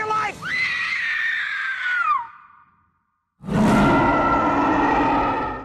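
A woman screams in Peter Jackson's King Kong film. One long, loud, falling shriek is followed by a brief silence, then a second scream that rises sharply and holds at full strength.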